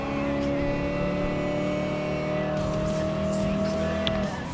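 A Dodge Super Bee muscle car engine in Gran Turismo Sport drones loudly and steadily at high revs, its pitch holding and then shifting slightly as the throttle changes, with a faint rise of other race noise.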